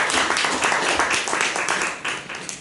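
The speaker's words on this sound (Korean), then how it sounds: "자, 각오하는 의미로 다시 한번 힘차게 박수." A church congregation applauding vigorously during a Sunday worship service: dense, sustained clapping from many hands filling the room, loud and close, tapering slightly toward the end.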